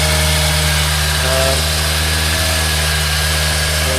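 A Suzuki Thunderace motorcycle engine, troubled by oil leaks, idles steadily and loudly with a fast, high idle and an even, unbroken drone throughout, with no one speaking.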